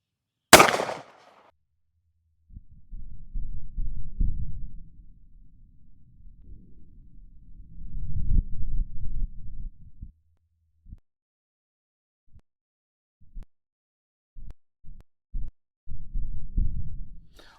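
A single sharp gunshot from an S&W Bodyguard 2.0 pistol firing Remington Golden Saber 380 ACP bonded jacketed hollow point ammunition, a loud close crack at the start followed by low rumbling thuds and handling knocks.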